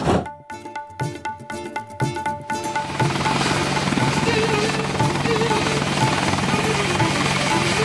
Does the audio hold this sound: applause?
no